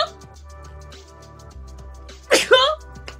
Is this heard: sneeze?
yes